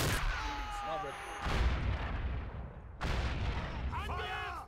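Bursts of gunfire and explosions in a Men of War Assault Squad 2 battle, coming in two loud waves with a brief lull between, mixed with other game sounds.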